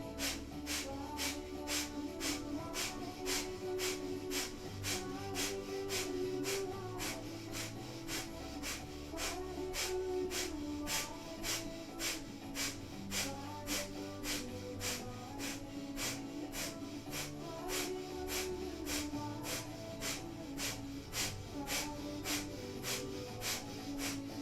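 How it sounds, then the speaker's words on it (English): Rapid, forceful breath of fire yoga breathing, a steady run of sharp rhythmic nasal exhalations over about a minute in a kundalini yoga class, with quiet background music underneath. "So we'll begin a minute of breath of fire."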